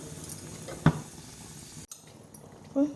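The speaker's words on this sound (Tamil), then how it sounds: "முந்திரி திராட்சை இதில் சேர்த்துக்கிறேன். நல்லா மிக்ஸ் பண்ணி எடுத்துக்கலாம்." Cashews and raisins being stirred into a pot of pongal, with a single sharp utensil scrape against the pan and soft sizzling background, ending in a brief clink.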